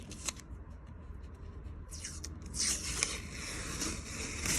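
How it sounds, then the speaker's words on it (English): Masking tape is pulled off cured 65D resin in a guitar control cavity, giving a close, dry tearing and crackling that grows louder in the second half, with no talk. "let's peel back the tape, see what we got"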